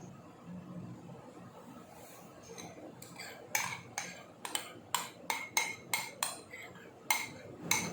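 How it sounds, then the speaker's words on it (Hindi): A spoon scrapes and clinks against a bowl while a prepared dry milk powder mixture is added, a quick series of sharp metallic taps in an even rhythm, fairly close and alone. "अब इसके अंदर हम डालेंगे ड्राई मिल्क पाउडर का तैयार किया हुआ मिक्सचर।"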